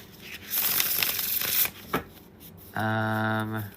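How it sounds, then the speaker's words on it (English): Tarot cards shuffled in a quick, dense riffle lasting over a second, followed by a couple of soft card taps, then a voice speaks at the end. "I'm just going to shuffle one more time"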